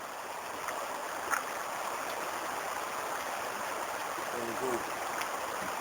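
The Belica river flows with a continuous, broad rushing wash that stays steady throughout, with a few faint knocks and a voice briefly audible in the background.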